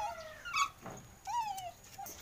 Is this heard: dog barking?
yes